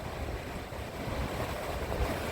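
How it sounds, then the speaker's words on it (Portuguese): Pacific Ocean surf breaking on the shore, a steady broadband wash of waves mixed with wind buffeting the microphone, continuous and fairly loud with no voices. "E aí está o outro oceano"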